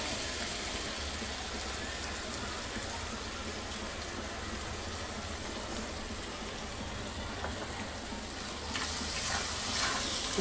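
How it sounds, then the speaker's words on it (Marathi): Spiced mixture with salt and turmeric frying in a pan while being stirred, a continuous dense sizzle with soft scraping, growing a little louder and brighter toward the end. "आता मी जरा त्याला मिक्स करून घेते."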